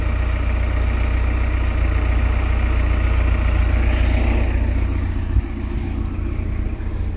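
A restored boat engine idles smoothly and steadily at close range, a low, even rumble that carries on unbroken, with a faint knock near the end and no talking.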